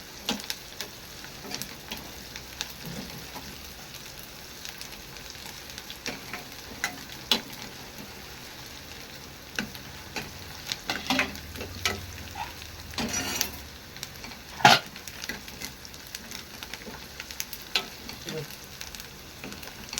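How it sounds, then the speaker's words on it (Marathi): Onion softening in a hot pan for Konkan-style pithla, a steady low sizzle and frying crackle with occasional stirring clinks, heard close and fairly quiet with no talk. "छान कांदा नरम होऊन द्यायचा"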